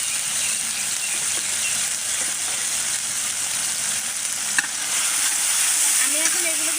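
Chepa shutki, a fermented dried fish, fries with lau shak leaves, turmeric, salt and cumin in a pan, giving a steady close sizzle with faint stirring sounds.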